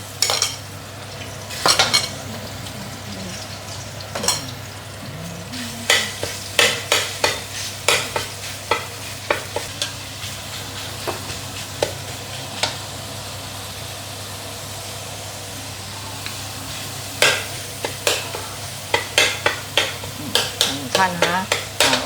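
Fish maw and cabbage are stir-fried in a wok: repeated sharp scrapes and clanks of a metal spatula against the pan come in irregular bursts over a steady low hiss and hum, close and fairly loud.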